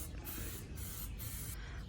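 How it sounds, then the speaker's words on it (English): Oil-based Kilz primer sprayed from an aerosol can onto the exterior of a clawfoot tub, a close continuous hiss in several short bursts with brief gaps between them. "of an oil-based Kills just spraying a light coat all over the exterior of the tub"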